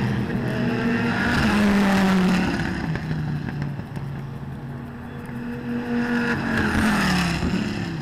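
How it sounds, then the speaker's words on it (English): SRT Viper GTS-R race cars roar past at a racetrack, their engines surging loudly as one car passes, dipping between passes, then swelling again with another car approaching and going by. "The Vipers, sounding like classic Vipers, continued to show strongly"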